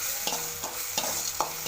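Tomato and Byadgi chilli sautéing in a pan for dosa batter, a steady low sizzle broken by four distinct scraping stirs of a spatula roughly every third of a second, close up with no voices.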